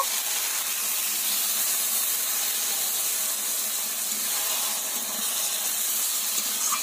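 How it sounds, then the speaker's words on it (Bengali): A mixed spice paste hits hot oil while a fish dish is cooked, giving a steady, hissing sizzle that holds at an even level with no speech. "এবার বাটিতে গুলে রাখা যে মশলাটা ছিল সেটা দিয়ে দেব।"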